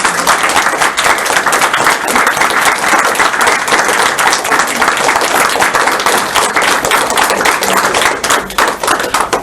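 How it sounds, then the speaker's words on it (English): An audience at a consciousness talk applauds, a dense loud continuous clapping that holds steady throughout and thins slightly at the end. "We don't always stay for the clapping"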